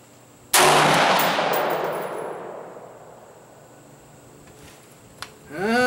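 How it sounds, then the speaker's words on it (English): A single loud unsuppressed gunshot from a firearm at an outdoor range, a sharp crack followed by a long fading echo, then a faint click and a brief rising whir near the end. "This will be the last shot without the suppressor."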